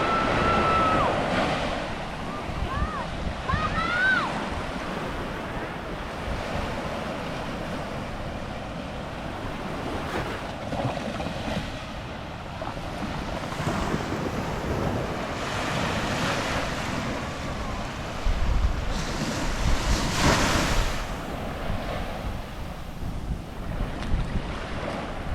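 Ocean waves break on the shore in repeated surges that wash in and recede, loud and close, with heavy gusting wind buffeting the microphone throughout.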